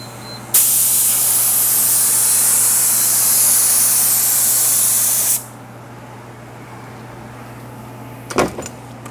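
Hydrogator activator sprayed onto hydrographic dip film over a mini dip tank, a loud steady aerosol hiss lasting about five seconds, then quiet with a brief clatter near the end.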